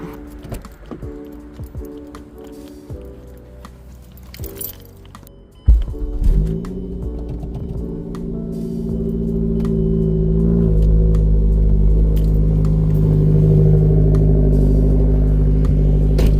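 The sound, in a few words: Mazda 3 engine starting up and revving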